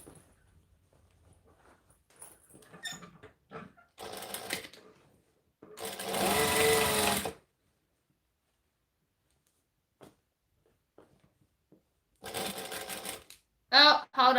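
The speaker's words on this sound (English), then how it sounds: "I'm sewing that on inside out because I did it from the back." A sewing machine stitches a seam on a fabric baby bag in several separate bursts, loud and close, with quiet pauses and soft handling noises between runs.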